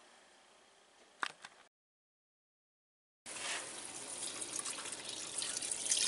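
Water poured from a tap into a soup pot holding drained browned beef for lasagna soup, a brief splash and clink, a gap of silence, then a loud, steady rushing stream of filling water.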